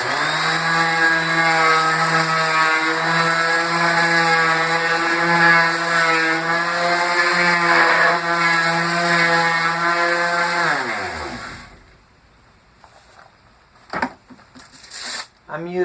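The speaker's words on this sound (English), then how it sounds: "now I'm just going to take my random orbit sander and sand those off a little bit" A random orbit sander fitted with 100-grit paper gives wooden boards for farmhouse end table legs a light sanding. Its loud, steady motor whine runs for about eleven seconds, winds down, and is followed by a few brief knocks.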